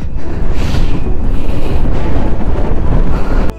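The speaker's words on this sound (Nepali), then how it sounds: "अहिले त यहाँ यस्तो औडा हावा लागिरहेको छ कि हेर्नु है" Strong wind roars across a high mountain pass near the Upper Mustang border, buffeting the microphone in a loud, steady rush that stays constant throughout, with no voices.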